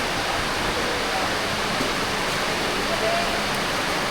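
Heavy rain pours down in a steady, dense roar of hiss that holds an even loudness from start to finish, with no breaks or distinct drops standing out.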